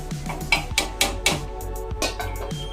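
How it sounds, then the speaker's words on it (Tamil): A spoon stirs chicken curry in a metal pot right after water is poured in, giving a close series of sharp clinks and scrapes against the pot in an uneven rhythm, with no talking. "தண்ணி ஊற்றி ஒரு கிண்டு கிண்டுங்க"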